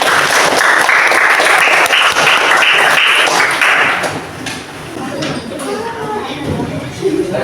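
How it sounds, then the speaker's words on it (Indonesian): Audience applause for a classroom group presentation on temperature, dense sustained clapping for about four seconds that then thins to scattered claps and room murmur. "Kita beri aplaus untuk kelompok 1."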